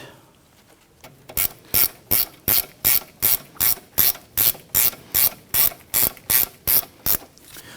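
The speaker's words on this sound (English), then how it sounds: "Let's go ahead and tighten down our strut 2 knuckle bolts here." A ratchet tightens the strut-to-knuckle bolts on a 2011-2015 Kia Sorento during a front CV axle replacement. After a quiet start, about seventeen loud, close, evenly spaced clicking bursts follow in a steady rhythm.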